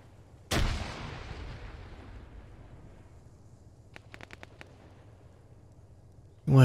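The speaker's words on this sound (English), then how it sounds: "let's get one of the old frag grenades over the top of this thing." A single frag grenade blast in the ArmA 3 military game, a loud sudden boom that rolls off into a long fading rumble, with faint clicks later and another sharp burst at the very end.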